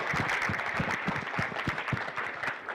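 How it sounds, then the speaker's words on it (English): An audience at a hackathon's final presentations and awards ceremony gives a vigorous round of applause, loud, dense and continuous, with individual claps pattering throughout. "Let's first have a real good round of applause for all the hacks you guys did"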